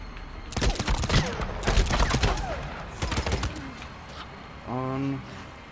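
Gunfire in the zombie survival game Days Gone, several bursts of sharp shots clustered over the first few seconds, loud and close, followed by a brief tonal buzz near the end.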